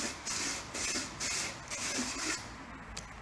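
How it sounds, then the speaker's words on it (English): Quick back-and-forth sanding strokes on the cut end of a pipe being prepared to fit a toilet flange, about five rasping passes in a steady rhythm, close and fairly loud with no talking. "to smooth out my cut and to clean the glue area, I'm just going to give it a quick sand"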